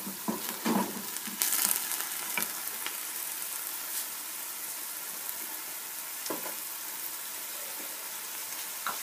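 Chard frying in oil with turmeric and onion, a steady close sizzle and crackle that keeps going throughout, with a few louder pops and stirring clatters near the start.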